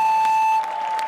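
Electronic end-of-run buzzer at a BMX freestyle park pro final, a steady high tone sounding continuously through the moment with faint crowd noise around it.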